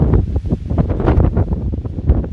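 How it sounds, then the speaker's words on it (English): Strong wind gusts of around 60 miles an hour on the Appalachian Trail in New Hampshire buffet the microphone in a loud, continuous roar with rumbling surges, and no one speaks. "these wind gusts have to be like 60 miles an hour"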